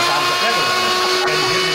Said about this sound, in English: if I take the regular blender and I turn the regular blender here